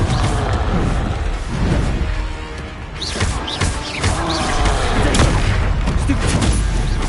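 Repeated booming fire-spell explosions from the Confringo curse in Hogwarts Legacy crash out one after another in a dense, loud barrage, with rumbling impacts layered over continuous game noise.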